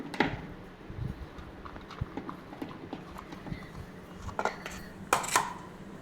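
Paneer being stirred into masala gravy in a pan, with soft scrapes and uneven metallic taps of a spoon against the pan, a brief louder clatter near the end, and a faint voice in the background.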